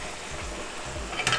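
Lobster tails fry in hot oil under a covered pan, giving a steady, close crackling sizzle with a few brighter pops near the end and no voices.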